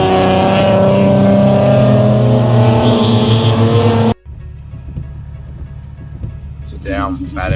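A race car's engine roars loud and steady from onboard during a rainy Time Attack race, then cuts abruptly to a quieter low rumble before revving again near the end.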